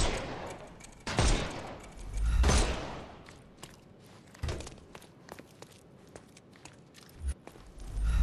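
Gunfire from Sherlock Holmes Chapter One, with a few sharp loud shots up front followed by lighter scattered cracks and footstep-like taps that trail off at mid distance.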